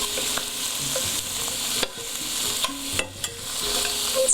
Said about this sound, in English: you want to definitely turn the shrimp, keep them moving as you're sautéing